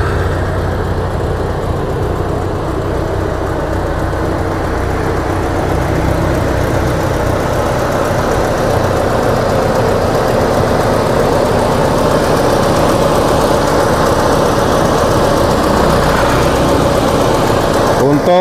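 An Opel Blazer car engine idles steadily nearby, a loud, even low rumble with slight vibration that holds for the whole stretch.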